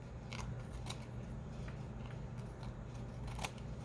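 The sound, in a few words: scissors trimming a craft piece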